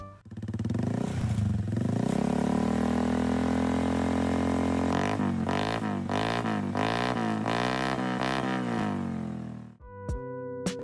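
A Honda Vario scooter fitted with a loud aftermarket racing exhaust drones close by, then is revved in a series of sharp throttle blips before the engine cuts off.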